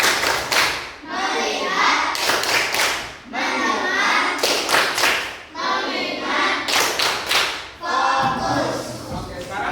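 Schoolchildren in an Indonesian classroom perform the tepuk fokus clapping routine, four bursts of rhythmic group hand claps with thumps and taps, separated by brief pauses filled with a teacher's and children's voices.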